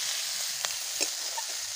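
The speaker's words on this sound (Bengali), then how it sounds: "এবারে কেটে রাখা টমেটো দিয়ে দিলাম" Chopped tomatoes go into onions frying in a pan for a small-crab curry, giving a steady close hiss of frying with two brief stirring knocks and no talking.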